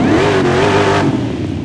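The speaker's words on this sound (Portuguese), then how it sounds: "Vamos dar um liga no motor dela, ó." A Ford F-150 SVT pickup's V8 engine revs hard and loud, a deep, steady roar with a slight rise in pitch, heard close and alone.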